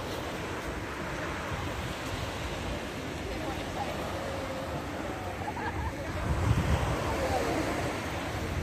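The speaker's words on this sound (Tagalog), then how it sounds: "alon." Ocean waves washing onto a beach at night in Barcelona, Spain, a steady broadband surf wash with wind noise buffeting the microphone, rising slightly near the end.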